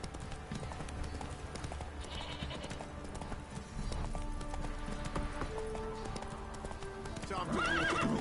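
Hooves clip-clop at a steady gait alongside game music in The Witcher 3: Wild Hunt, ending in a loud horse whinny; voices talk in the background.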